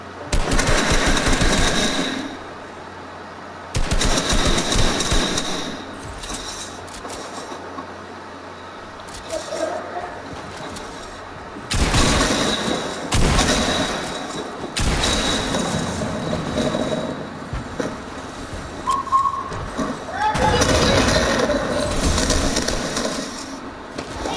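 Gunfire in the Fortnite video game from an SMG and a burst rifle, loud dense bursts of rapid shots in several clusters separated by brief lulls, with some booming hits and game effects in between.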